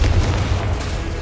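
A Confringo fire spell bursting in Hogwarts Legacy, heard as a loud, dense, low rumbling boom that fills the moment without a break.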